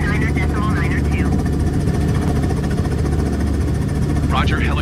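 Steady, loud drone of a helicopter engine and rotor in Microsoft Flight Simulator near Lake Léman, continuous throughout with radio-style air traffic voices talking over it.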